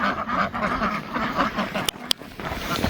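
Ducks quacking close by on a cold farm porch, a steady dense flurry of calls with two sharp louder clacks near the end.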